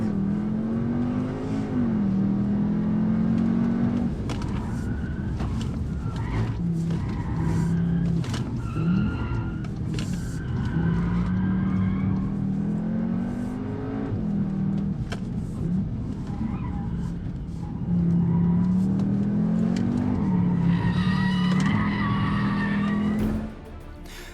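A Cupra Formentor performs a launch control start at 4000 rpm. The engine note climbs loudly through repeated rising pulls, with tire squeal and skidding threaded through the run until it cuts off near the end. No one speaks.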